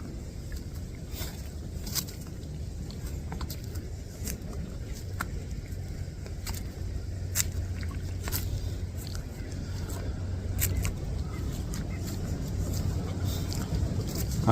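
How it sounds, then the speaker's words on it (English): A low, steady rumble of distant road traffic heard from a wooded city park trail under light wind, with faint scattered clicks and rustles nearby. "I can still hear the same traffic and the same train."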